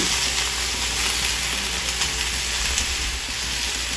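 Italian sausage sizzles steadily in a hot pan, a dense, continuous crackle of frying that stays close and even throughout, with no talking.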